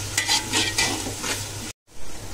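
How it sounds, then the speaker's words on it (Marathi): Green chilies frying in oil in a pan, a close, dense, steady sizzle with faint stirring that cuts off abruptly for a moment and then resumes. "तेल ओतलं आता. मिरच्या टाकल्या."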